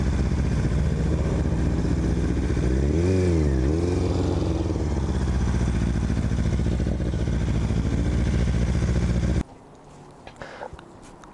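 A Kawasaki motorcycle rides slowly over bumps, its engine running loud and steady up close with a brief pitch rise and fall midway, then cutting out near the end.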